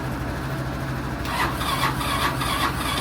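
A Honda Helix scooter engine cranks at 1°F (-17°C), with a low steady hum at first and then loud, rhythmic starter cranking pulses for about two seconds, close up with no talk.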